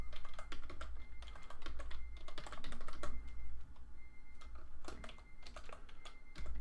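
Rapid bursts of keystrokes on a computer keyboard while entering text in the baseball management game OOTP 17, close and clear, in uneven clusters with brief pauses, no talking.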